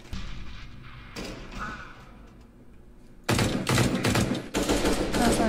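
Bursts of gunfire in a Counter-Strike: Global Offensive match, loud and dense in the second half after quieter shots earlier, with no talk over it.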